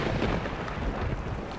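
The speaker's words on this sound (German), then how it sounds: "Das ist ja cool, dass die auch Gewitter haben." Rumbling thunderstorm thunder in the survival video game DayZ: a dense, low roar that fills the whole moment at steady loudness, with no one speaking.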